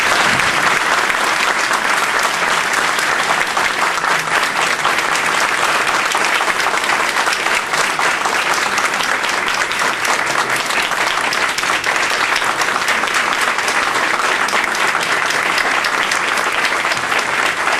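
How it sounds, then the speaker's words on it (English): Audience at an Inter-University Center for Japanese Language Studies anniversary event applauding their teachers: steady, loud, sustained clapping from a large crowd, unbroken for the full stretch. "I really would like to applaud our teachers."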